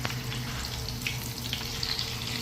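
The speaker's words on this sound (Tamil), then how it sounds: "திருப்பியும் எண்ணெய் வேகுது எண்ணெய் சூடாகி கொண்டு இருக்குது" Hot oil sizzles in a pan while food fries in a home kitchen in Jaffna. The frying is close, steady and continuous, with small crackles and no talking.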